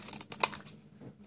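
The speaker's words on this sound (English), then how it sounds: "I'm going to use my slightly larger scissors for this. I'm going to cut just a thin strip." Slightly larger craft scissors cutting a thin strip of paper for a framed card, a few quick, close snips with one sharper cut in the middle, quiet and without talk.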